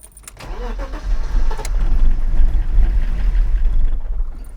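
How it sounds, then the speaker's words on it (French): An old salvaged car's engine cranks, catches and strains loudly for a few seconds as it nearly starts, ending in a low rumbling. Sharp clicks come before it, and no one speaks. "elle a failli démarrer"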